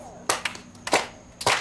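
An audience claps in unison three times during a storytelling session, three sharp, evenly spaced claps standing out against faint background hum.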